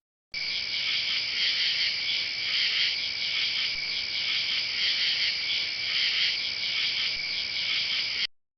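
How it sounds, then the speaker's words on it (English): A cricket chirps in one continuous, steady, loud trill that runs unbroken from start to finish, with no other sounds around it. "cricket,"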